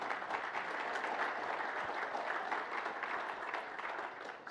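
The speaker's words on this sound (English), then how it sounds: "Just give them a round of applause." An audience at a sales summit gives the event crew a round of applause: a soft, even patter of many hands, heard from a distance, that carries on steadily and fades slightly near the end.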